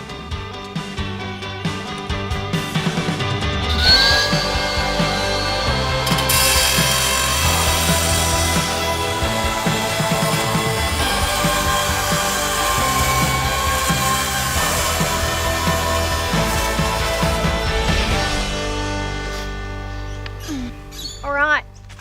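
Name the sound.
battery cut-off machine cutting metal fence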